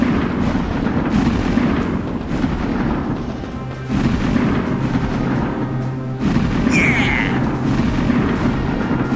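Naval cannons firing in a sailing-warship battle of the Nelson era, a loud, dense, continuous roar of booms and rumbling with a sharper burst late on.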